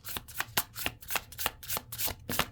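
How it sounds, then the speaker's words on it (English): Oracle cards riffled and shuffled by hand, a series of crisp papery flutters and snaps in an irregular rhythm, close and fairly quiet, with no talking. "These are hard to shuffle."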